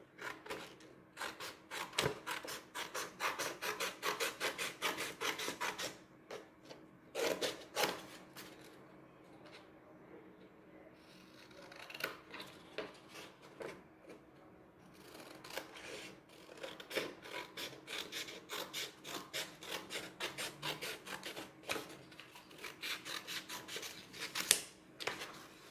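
Scissors snip through colored paper in a quiet room, a close series of crisp, irregular cuts and rustles with short pauses between bursts.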